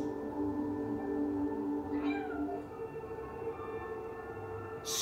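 A cat meows in the trailer for the video game Stray, a drawn-out mid-pitched meow over soft tonal music, fairly quiet and close, with no talking.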